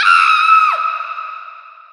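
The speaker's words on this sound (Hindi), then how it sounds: "सिर्फ चीखें गूंजती हैं।" A single long, high scream echoes from a dry, abandoned village well as a horror sound effect, loud at first. It then drops in pitch and fades into a ringing, hollow echo.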